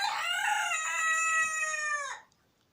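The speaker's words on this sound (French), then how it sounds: "les coqs toujours aussi communicatifs" A rooster lets out a single long crow nearby, loud and clear for about two seconds before breaking off into quiet.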